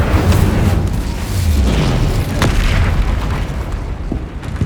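An Incendio fire spell blast in the Hogwarts Legacy video game erupts in a loud, booming roar of flame with low rumbling bursts and crackle, dense and sustained over several seconds.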